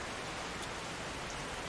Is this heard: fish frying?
no